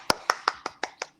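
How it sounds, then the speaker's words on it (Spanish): Seven sharp, evenly spaced hand claps mark a birthday during a meeting, each crisp and close, in a quick steady rhythm. "pido un aplauso para ella por su cumpleaños"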